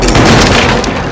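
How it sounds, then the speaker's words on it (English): A shotgun blast in the game Little Nightmares II, a loud dense boom filling the whole moment with rumbling low-end and a broad noisy wash, no talk. "The hunter just took a shotgun to the chest"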